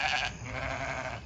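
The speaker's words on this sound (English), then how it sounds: "the sheep are out here in the pasture" A sheep out in a pasture bleats once, a loud, close, wavering call that fills most of the moment before trailing off.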